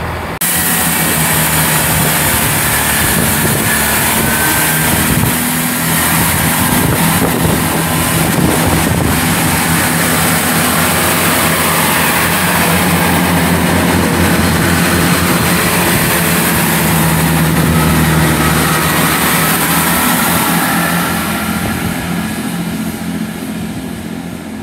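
A Class 166 diesel train, unit 166204, departs Filton Abbey Wood station, its engine droning loud and steady for the whole stretch alongside heavy wind rumble, slowly easing off toward the end.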